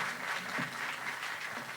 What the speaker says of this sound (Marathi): या सगळ्या दिलबरोंसाठी एकदा जोरदार टाळ्या वाजवूया आपण.